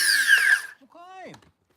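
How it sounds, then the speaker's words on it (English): A power tool grinds the burrs off the end of plastic pipe in a short, bright, harsh whir that winds down after under a second, followed by a brief voice. "Just getting those burrs off the end"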